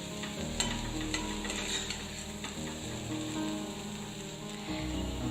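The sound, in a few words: potatoes frying and being stirred in a kadai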